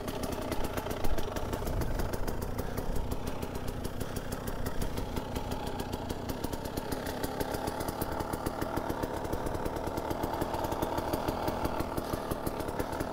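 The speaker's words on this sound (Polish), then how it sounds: "Te wszystkie dwusuwy to chodzą, czy to kurde z 20, czy z pierwszego, jakby zaraz silnik miał w nich się rozpaść" A KTM EXC 300 two-stroke dirt bike engine running near, with a rapid, buzzing, slightly ragged rattle that stays steady throughout with small shifts in revs.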